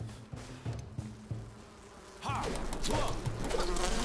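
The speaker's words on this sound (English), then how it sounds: "Level 11 bees." Bees in the game Enshrouded buzz with a steady droning hum near the listener, joined partway by louder rustling and impact noises.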